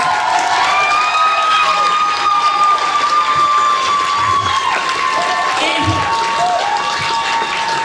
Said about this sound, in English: can we give Missy a giant round of applause?